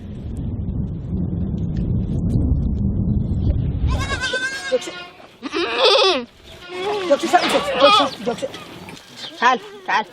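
A herd of goats bleats on a flat, wide desert plain in Wajir, where nomadic herders keep camels, goats and sheep. Several loud overlapping bleats come from close by after a stretch of low wind rumble at the start.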